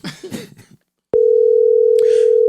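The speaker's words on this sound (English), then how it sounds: "I'm gonna give you 2 more rings" A telephone line tone sounds during an outgoing call, a loud, steady electronic hum that starts abruptly after brief speech and a short pause, with a voice talking faintly over it near the end.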